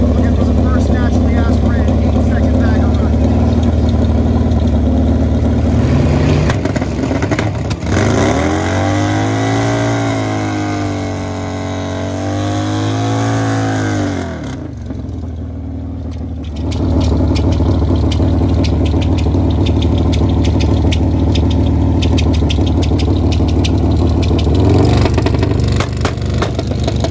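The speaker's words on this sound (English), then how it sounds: "He's looking for an 8-second run on this hot street, naturally aspirated, Max ECU DME, Harley Davidson" A naturally aspirated Harley-Davidson bagger motorcycle on a hot street drag race run, its loud engine howl rising and falling in pitch over several seconds, mixed with crowd and commentary noise before and after.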